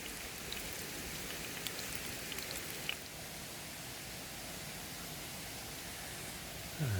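Rain falling at a South Wales wild camp, an even soft hiss of drops with a few louder taps early on, quiet and continuous with no talking.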